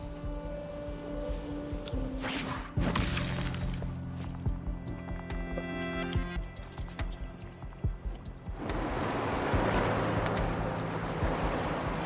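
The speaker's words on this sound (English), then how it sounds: "Look, the water is going down." Water draining away in the video game Wuthering Waves, a rushing, surging wash of water with a sharp crash partway through, swelling into a broad steady roar near the end.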